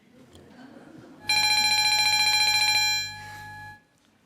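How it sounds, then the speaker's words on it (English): Electric division bells ring in a school youth parliament chamber in Brisbane, a loud continuous metallic bell trill lasting about two and a half seconds, then dropping to a quieter ring before stopping, over faint room murmur. "Ring the bells. A division has been called."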